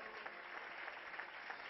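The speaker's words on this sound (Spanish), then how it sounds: "Calla fuerte los aplausos a Cristo Jesús en esta noche" Congregation applauding in a church during a Catholic evening service, a steady wash of many hands clapping at moderate level throughout, with no gaps or voices standing out.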